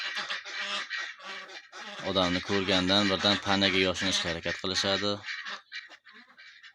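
Indian runner ducks give a run of honking, squeaky calls at close range, mixed with and partly overlapping someone talking.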